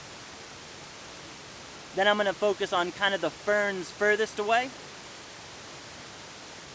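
Nandroya Falls pours in a constant, even hiss of falling water throughout, while someone speaks over it for a few seconds.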